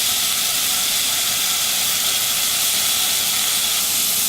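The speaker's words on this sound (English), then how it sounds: "I'm just going to cut some off the end and throw it in my skillet to brown." Bacon pieces browning in a preheated iron skillet give a steady, dense sizzle and hiss that holds at an even level throughout, close and continuous with no voices.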